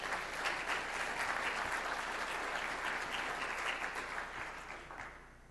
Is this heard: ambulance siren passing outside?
no